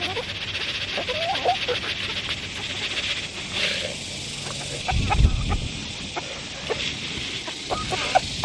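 A backyard chicken clucks in short, scattered bursts amid low ambient outdoor noise, with one louder, closer cluster of sounds midway.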